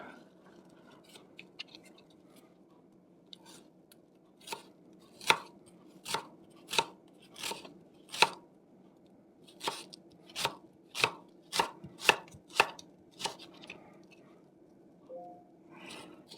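Knife chopping half an onion on a cutting board, crisp close taps in a quiet kitchen, starting sparse and then settling into a steady run of evenly spaced strokes before trailing off.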